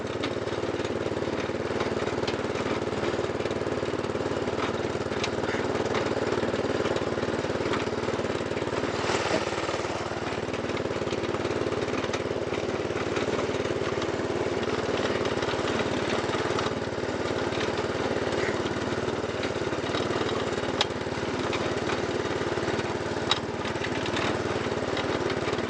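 Snapper riding lawn mower engine running steadily, a loud, close, droning mid-pitched hum with no pauses for about twenty-five seconds.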